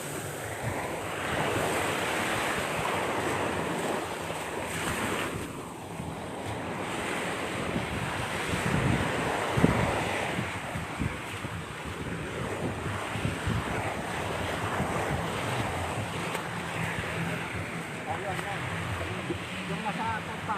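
Ocean waves and surf wash steadily onto a beach in Zambales, a continuous broad roar with gusts of wind noise buffeting the microphone and occasional voices talking over it.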